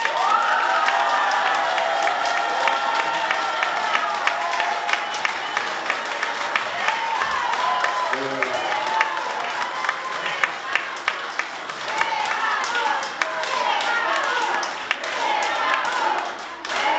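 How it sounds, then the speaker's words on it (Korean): A lecture audience at a Korean public talk on democracy claps steadily for about seventeen seconds to welcome a speaker, dense and sustained, with some crowd noise and voices mixed in. "모두 큰 박수로 최강호 의원님을 환영해 주시기 바랍니다"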